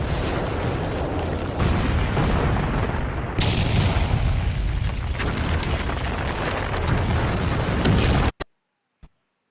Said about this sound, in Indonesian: Pada tanggal 20 Mei, Jerman melancarkan serangan artileri besar-besaran.